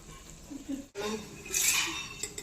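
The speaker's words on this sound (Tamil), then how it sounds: "இப்போ ஒரு பிளேட்டை போட்டு முடியலாம்" A plate placed over a cooking pan as a lid gives a short ceramic clatter and clink against the metal, with kitchen bustle around it and a brief bit of talk nearby.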